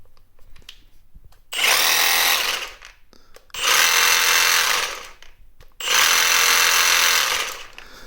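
A Kobalt 24V brushless saber saw runs in three loud bursts of a couple of seconds each, with a short delay before each one, its harsh buzzing motor roaring close up between quieter pauses.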